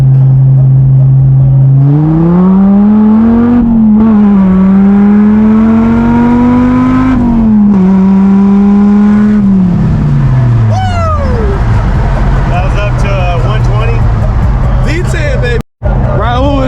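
A heavily modified 2006 Dodge Viper SRT-10 with an 8.3-liter V10 pulls hard from around 30 mph, its deep engine note rising and dropping through gear changes, loud and close from inside the cabin, with voices talking over it at times.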